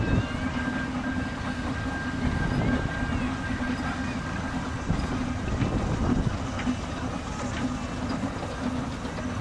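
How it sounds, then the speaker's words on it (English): A Fowler Tiger 3 steam tractor runs at a steam rally, a steady mechanical chuffing and rumble with a faint sustained whine, moderately close and continuous amid outdoor rally ambience. "It's a Tiger 3 tractor owned by Robert Tyler."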